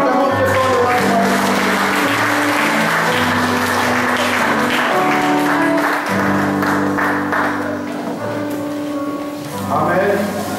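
Sustained loud applause and cheering from a church congregation acclaiming the king during worship, continuous for about ten seconds with voices and music mixed in.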